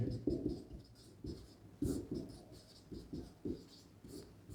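Chalk or marker scratching across a board during a Hindi grammar lesson in a classroom, in short irregular strokes with brief pauses, fairly close and clear, with no talking over it.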